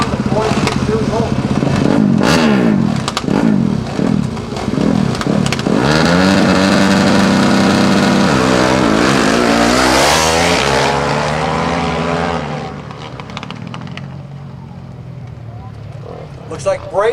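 Racing motorcycles, a Honda among them, roar past at a dirt TT race in Macomb, Illinois, engines rising and falling in loud overlapping revs while an announcer talks over them before the sound fades into the distance.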